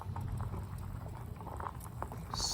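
Water boils in a metal canteen cup set on a small wood-burning hobo stove outdoors, a steady close bubbling and pattering with a hiss that rises near the end.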